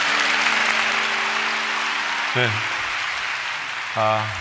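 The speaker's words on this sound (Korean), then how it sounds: "우리 강사님 위해서 박수 한번 하겠습니다" Audience applause for a guest preacher at a church prayer service, a steady wash of clapping that fills the whole clip, with brief voices or tones breaking in near the middle and the end.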